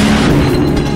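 Russian frigate Admiral Golovko firing its air defense weapons at sea, heard as a loud, sustained rumbling boom that fills the whole second without a break.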